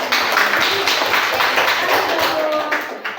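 Children in a classroom clap together for a classmate, a dense, loud burst of hand claps lasting a few seconds, close by with a faint voice or two mixed in.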